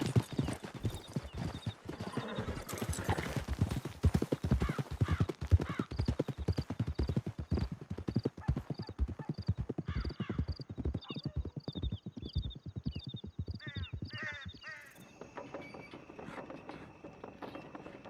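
Horses gallop in Red Dead Redemption 2 with loud, rapid clip-clop hoofbeats, neighs and whinnies, plus mechanical rattling, continuing steadily before easing off near the end.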